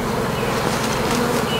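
Dense, steady buzzing of many honey bees at a hive, a mix of Italian and darker European dark bees, close and continuous with no voices.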